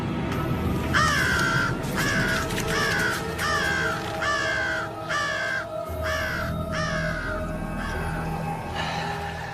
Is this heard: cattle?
no